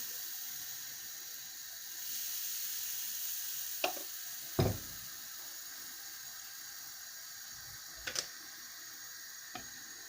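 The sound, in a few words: pancakes frying in a pan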